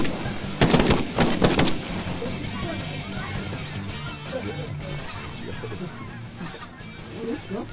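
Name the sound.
shotgun shots while hunting geese (honkers)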